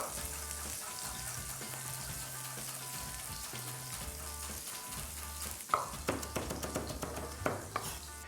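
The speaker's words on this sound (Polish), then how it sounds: "podsmażam właśnie pieczarki" Sliced mushrooms fry in a pan, giving a quiet, continuous sizzle with crackling pops that grow busier toward the end, over soft tonal background music.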